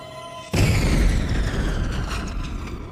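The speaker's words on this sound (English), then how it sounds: "The explosion was the most gruesome yet." Mail bomb explosion from a small package, a sudden deep boom that hits after a brief quiet, heavy low rumble that slowly decays and rolls on for a couple of seconds.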